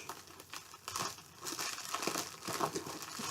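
Crinkling plastic and paper rustle up close as a DVD package is torn and pulled open by hand without scissors, in irregular bursts.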